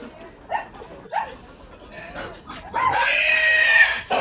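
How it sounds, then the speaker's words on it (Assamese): A pig at a small local pig farm in Assam, with short grunting and squealing bursts, the last one louder and drawn out, heard close with light background activity. "এতিয়া আকৌ আহিলে একটা গাহৰি লৈ গৈছে"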